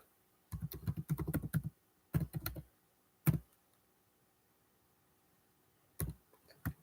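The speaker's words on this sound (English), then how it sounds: "I'm typing." Fingers clatter on a computer keyboard in several quick, close bursts of typing separated by short pauses, with a final scattered few keystrokes near the end.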